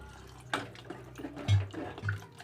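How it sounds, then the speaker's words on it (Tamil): Water poured into mashed ration-shop dal with cooked vegetables for Tamil-style sambar, a few close splashy glugs and drips over about two seconds, with faint background noise. "நம்மளுக்கு தேவைக்கு தண்ணி சேர்த்திக்கலாம் ஃப்ரெண்ட்ஸ்."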